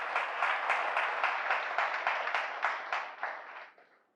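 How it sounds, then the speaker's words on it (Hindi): An audience claps in rhythmic unison, a steady series of sharp, evenly spaced beats at moderate loudness that slowly weaken and fade out near the end. "मुझे तालियां थोड़ी जोर से सुनाई देनी चाहिए।"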